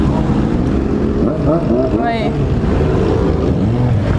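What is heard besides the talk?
many motorcycles riding past at event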